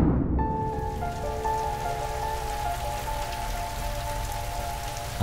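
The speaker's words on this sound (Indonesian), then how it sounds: "Nah itu udah gerimis, udah mulai hujan kan." Light drizzle on a mountain, a soft, continuous patter of raindrops with a steady tonal hum lingering behind it, no talking.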